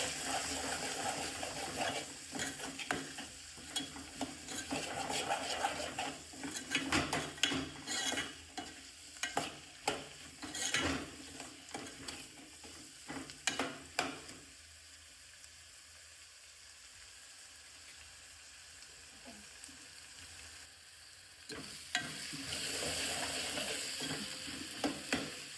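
Spiced green chickpea curry stirred in a pan with coriander-cumin powder and salt, giving repeated scraping and clattering strokes over a soft sizzle, busy at first, then a quieter stretch before stirring resumes near the end.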